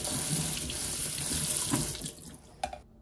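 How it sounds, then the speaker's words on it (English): A kitchen sink tap runs steadily onto canned black beans being rinsed in a strainer, a loud close rush of water that cuts off near the end with a few clatters. "I'm going to go ahead and drain and wash one can of black beans."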